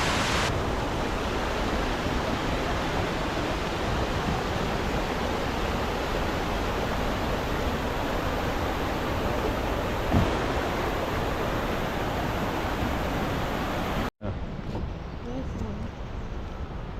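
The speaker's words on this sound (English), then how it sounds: "But now it's like a little bit more like rapids, little mini rapids" Flood waters overflowing at Khlong Lan Waterfall churn through mini rapids in a loud, dense, unbroken rush of white water, close and constant, with a brief cut near the end before the roar resumes.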